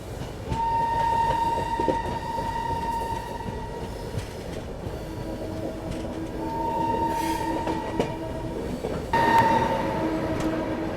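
Empty rake of the Shri Shakti Express (Shri Mata Vaishno Devi Katra–Delhi) rolling past, steady loud rumble and clatter of coaches with wheel squeal tones throughout, a brighter burst near the end.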